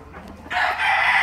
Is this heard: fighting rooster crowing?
yes